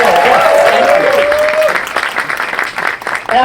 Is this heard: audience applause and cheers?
yes